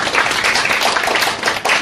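An audience in a church youth gathering claps together in a dense, brief burst of applause that lasts under two seconds, with no voices over it.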